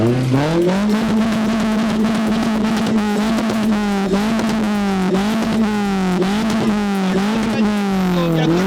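A modified exhaust on a Toyota Corolla 1.6 Altis at an auto show drones loudly and steadily, the engine revving in repeated rises and dips with a rough, buzzy tone.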